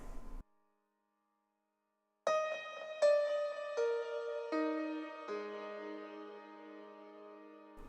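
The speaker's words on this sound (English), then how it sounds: "here's the sound of the piano with no compressor on it" An uncompressed piano in a worship song mix plays a sequence of notes that ring out and layer into sustained chords, clear and close with natural decay, after a brief silence at the start.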